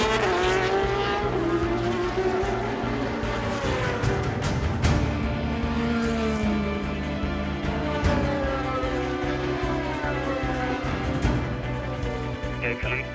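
Race cars in the European Le Mans Series accelerate at the green flag start, a dense, continuous roar of engines with rising and falling pitch and occasional tire squeal, with a commentator talking over it throughout.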